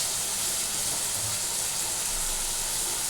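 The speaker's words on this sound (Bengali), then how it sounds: "এবার গ্যাসটা একটু বাড়িয়ে দিলাম।" Broad steady hiss from a gas stove burner turned up while cooking basa fish, loud and continuous with no voices over it.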